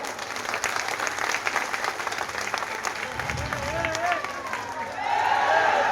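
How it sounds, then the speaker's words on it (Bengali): Audience applause for the chief guest at a public gathering, a dense steady clatter of many hands that swells louder near the end, with crowd voices and shouts mixed in. "চলুন আমরা আমাদের প্রধান অতিথিকে একটু করতালি দিয়ে শ্রদ্ধা জানাই।"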